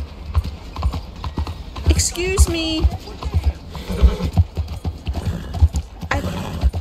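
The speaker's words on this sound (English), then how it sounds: "This horse did not want to stop." Horse hooves clip-clop at a steady pace in the video game Red Dead Redemption 2, with a brief whinny in the middle, running under people talking throughout.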